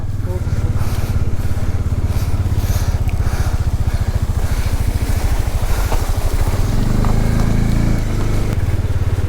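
A motorcycle ridden up a snowy mountain road at Khardung La, its engine droning loud and steady throughout with a low throbbing pulse, close up, while voices talk over it.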